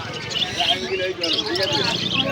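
Giribaz and fancy pigeons at the Birnagar pigeon market chirp and call in a dense chorus close by, mixed with background crowd chatter.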